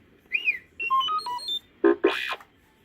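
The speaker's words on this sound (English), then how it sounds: "You will know it is time to turn the page when you hear R2-D2 beep, like this." R2-D2 beeps as a page-turn cue on a 1979 Star Wars book-on-record: a quick sequence of robotic electronic beeps and warbling tones, rising and falling, followed by two brighter chirpy bursts, clear and close.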